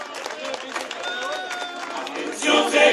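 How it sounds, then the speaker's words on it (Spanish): Crowd applause and cheering for a Uruguayan murga group at a neighborhood tablado stage, clapping and shouts building louder near the end, with a voice speaking over the crowd. "Un fuerte aplauso para los"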